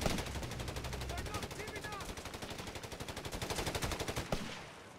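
Machine gun fire from the World War II strategy game Company of Heroes 3 rattles on as one long, steady, rapid burst of shots, close and dense, stopping abruptly near the end.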